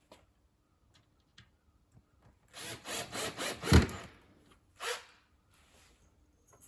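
Screws being driven into a wooden frame during furniture assembly: a close run of four or five grinding, rasping bursts over about two seconds, then one short burst after a pause, all in a quiet room.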